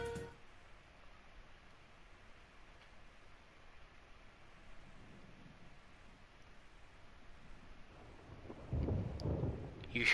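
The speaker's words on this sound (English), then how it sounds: "You hear thunder rumbling." Distant thunder in Persona 4 Golden rolls as a low, faint rumble through steady rain-like hiss, swelling louder near the end.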